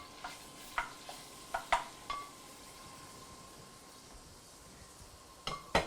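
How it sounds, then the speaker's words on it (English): A quarter pound of sausage sizzles softly in a pan as a faint, steady hiss, broken by a few light clinks and taps of a utensil against the cookware. "I'm gonna throw my quarter pound of sausage into that."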